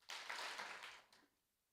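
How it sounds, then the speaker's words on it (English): A live audience at a PechaKucha presentation night claps together on cue, a dense, roomy burst of many hands lasting about a second, followed by a quicker, weaker second clap that trails off into quiet, with no talking. "Clap twice if you can hear me"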